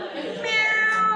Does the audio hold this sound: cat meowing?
yes